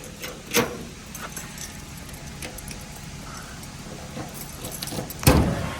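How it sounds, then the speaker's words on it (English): A ring of eight keys jangles quietly at the trunk of a 1974 Cadillac Eldorado, with a sharp metallic rattle near the start and a louder clink and thump at the end. "let's see which one of these keys is going to go for the trunk, since we got 8 of them on here."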